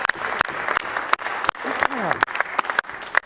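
Applause fills a legislative chamber for a new party leader, a sustained patter of many hands with sharp individual claps standing out, while a voice speaks over it.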